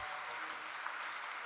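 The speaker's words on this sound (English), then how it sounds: "A big round of applause, my friends" Applause from the audience at a lifetime achievement award presentation during a saint endowment lecture event, a faint, steady patter of many hands with no voices.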